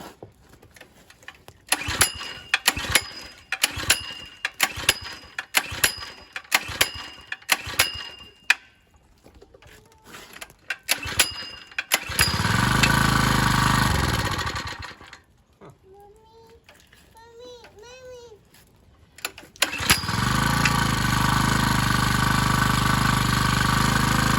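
Sharp ticking clicks from a gas water pump engine being pull-started, then the gummed-up motor catches on choke and runs in rough bursts, sputtering and stalling before settling into a steady drone.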